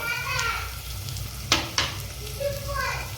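Chopped onion sizzles in hot oil with mustard seeds and cumin in a pan for khichdi, a soft continuous frying hiss broken by a couple of sharp clicks, with faint voices in the background.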